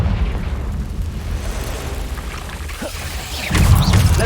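A Confringo fire spell goes off in Hogwarts Legacy, a dense rumbling blast that swells louder in its last second over a steady low roar, with no voices.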